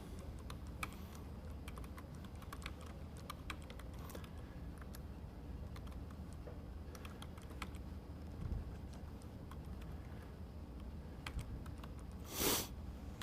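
Someone types a title on a computer keyboard, producing a quiet run of soft, uneven keystroke clicks with one brief louder rustle near the end.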